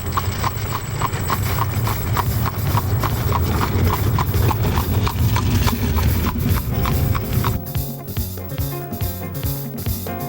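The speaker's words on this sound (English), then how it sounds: "the clip-clop of horses' hooves echo down quiet country roads" Steady clip-clop of horse hooves on a quiet country road in Amish farmland, a brisk continuous rhythm close by, with the clatter shifting and thinning toward the end.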